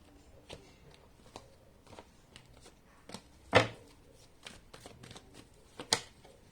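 Tarot cards being handled and laid out during a card reading, soft papery slides and occasional sharper flicks and slaps, close and fairly quiet, with no speech.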